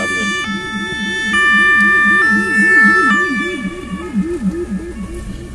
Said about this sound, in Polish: jechało pogotowie, któremu musieliśmy ułatwić przejazd